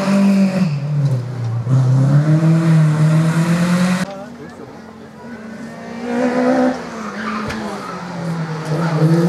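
Race car at a hillclimb event, engine note rising and falling as it revs through gears and passes close by, loud and continuous with a brief lull mid-way, under a commentator's voice.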